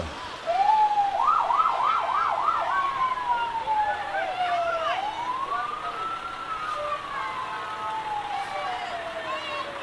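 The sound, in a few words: fire company vehicle siren in parade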